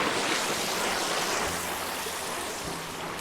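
A creek flows with a steady, close wash of rushing water, broadband and unbroken, with no voices over it.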